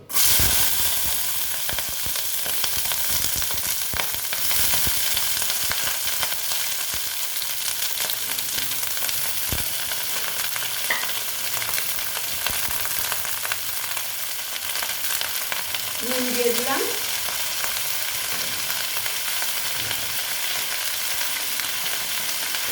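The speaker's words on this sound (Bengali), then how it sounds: "তেলটা গরম হয়ে গেছে এখন দিয়ে দিচ্ছি দেখো পেঁয়াজ কলিগুলো" Spring onions drop into hot oil in a pan, a loud, continuous frying sizzle that holds steady with occasional stirring scrapes and spatters, no voices.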